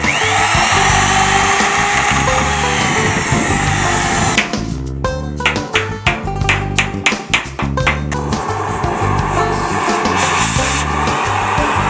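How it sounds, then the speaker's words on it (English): A loud power drill grinds steadily, then stutters in rapid bursts as it bites into old metal rivets being drilled out during a restoration, before resuming a continuous whine. "Earl Gano begins drilling out the old rivets that need to be replaced."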